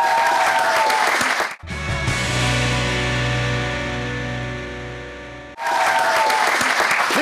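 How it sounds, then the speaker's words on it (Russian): Studio audience on an Erudite quiz show bursts into loud, sustained applause, broken by a sharp musical sting and a tonal jingle mid-clip before the clapping surges back. "Сейчас в студии будет бешено аплодировать Таисии, которая сравняла счет."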